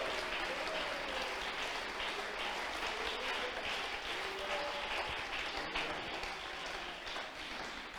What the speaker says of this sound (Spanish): Denle ese aplauso al Señor en esta tarde.